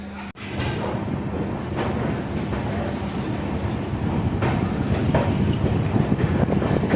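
Steady rumble and clatter of a passenger train coach on the Gandhinagar Capital to Varanasi run, continuous and fairly loud with faint rhythmic wheel clicks throughout, no voices.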